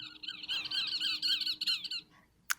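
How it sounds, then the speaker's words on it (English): Parrots squeak and squawk in a garden, a quick run of shrill, chattering calls for about two seconds, ending in one brief sharp squeak after a short pause. "What's that in the garden? Squeaky. Parrots."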